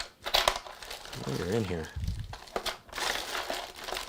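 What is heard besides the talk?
rustling through packaged flash drives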